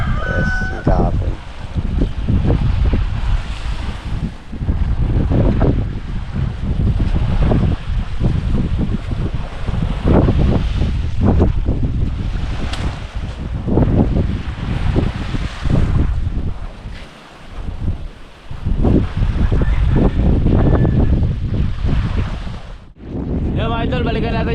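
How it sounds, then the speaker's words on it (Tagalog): Strong wind roars across the sea on a longline fishing trip, a loud, steady gusting rush that fills the whole stretch with brief dips, and voices talk beneath it. "lakas din yung hangin"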